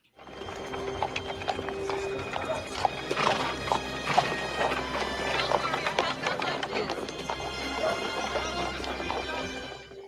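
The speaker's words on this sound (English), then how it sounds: "A horse-drawn carriage goes by." A horse-drawn carriage rolls past on a cobbled street in a radio drama, with steady clip-clopping hooves, a whinny and rattling wheels throughout, loud and close.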